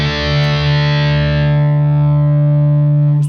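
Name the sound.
electric guitar through a single distortion pedal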